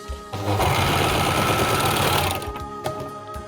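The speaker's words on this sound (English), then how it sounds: "Here was not fixed very well, so I will overlock it a bit." An overlocker sewing machine stitches the seam of baby pants made as photography props, a loud, rapid mechanical whir that runs steadily for about two seconds before slowing and stopping, followed by quieter handling noises.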